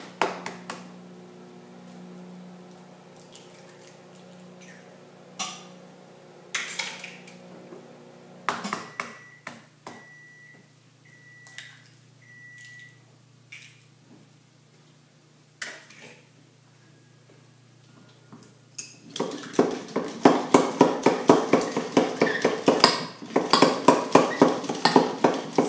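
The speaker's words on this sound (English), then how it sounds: "I will beat my 2 eggs." Two eggs beaten by hand in a bowl with a fork or whisk: after scattered clinks and a faint ringing ping, a rapid, fairly loud stream of rhythmic clattering strokes against the bowl fills the last several seconds, no talk.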